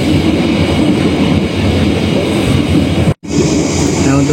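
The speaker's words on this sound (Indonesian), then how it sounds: "untuk kereta api Siliwangi ini merupakan KA lokal untuk relasi Sukabumi Cianjur sampai dengan Cipatat" A local passenger train on Indonesia's Siliwangi line between Sukabumi, Cianjur and Cipatat rumbles steadily up close with broadband roar and rattling, briefly cut by a moment of silence before the noise resumes.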